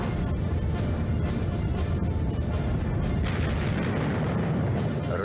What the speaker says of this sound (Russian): Раздались выстрелы из башенного орудия и пулеметные очереди.